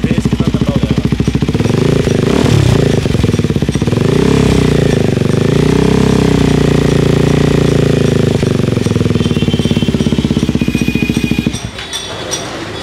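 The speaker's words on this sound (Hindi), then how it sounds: "अभी DB किलर हटते देखो बेस कितना तगड़ा हो जाएगा।" A KTM Duke 390 Gen 3 with an R9 aftermarket exhaust and the dB killer removed revs hard up close, a loud, deep, bassy roar that rises and falls through several throttle blips before easing off near the end.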